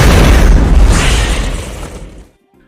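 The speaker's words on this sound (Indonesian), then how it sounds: "Dan meledaklah serangga itu menjadi berkeping-keping." A hand grenade explodes and blows an alien bug to pieces in a sci-fi war film: one loud, close boom that rumbles and slowly fades over about two seconds before cutting to silence.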